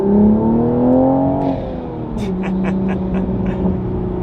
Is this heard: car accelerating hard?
yes